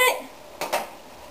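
Cooked pasta knocked out of a strainer into a pan: two quick metallic knocks and clatters close by, short and sharp against a quiet kitchen background.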